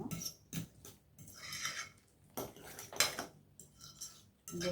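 Banana mashed with grated coconut being stirred in a bowl for sweet banana adai, with repeated clinks and scrapes of a utensil against the dish, close and fairly quiet, no talking.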